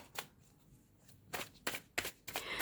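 Tarot cards are shuffled close by in several brisk, crisp bursts separated by short quiet gaps, with no one talking.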